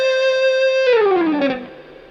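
An overdriven electric guitar holds a sustained note and then slides downward off the string, in a bluesy phrase, fading out at the end.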